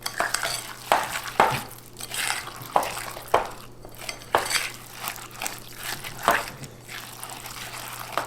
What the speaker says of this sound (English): We're going to mix this all up, right?